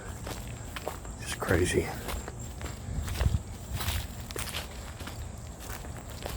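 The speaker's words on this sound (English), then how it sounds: "Going through the bushes and stuff." Footsteps push through bushes outdoors around a clearing, with brushing and rustling contact at a steady walking pace, fairly close and soft, while someone speaks briefly.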